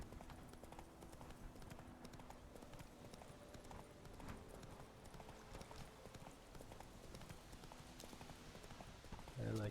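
Horse hooves clip-clop steadily on a road in the video game The Witcher 3: Wild Hunt, a riderless horse giving a quiet, even rhythm of hoof falls under faint game ambience.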